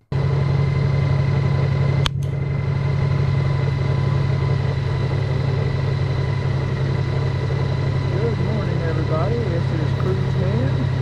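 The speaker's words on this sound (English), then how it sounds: "All you can really hear is engine noise." A steady, muffled motorcycle engine drone holds throughout, low and constant, with a sharp knock near the start and faint voices under it toward the end.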